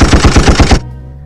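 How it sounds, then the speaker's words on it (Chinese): A USB sound card's built-in gunshot effect fires a loud, rapid burst of about six machine-gun-like shots, then cuts off into a brief ringing tail. "辅助音效有枪声、"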